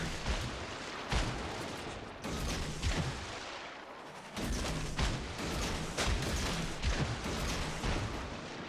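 Naval artillery fire in a warship video game, a destroyer battle: repeated heavy booming salvos at irregular intervals, loud and dense, rumbling continuously between shots with no talk.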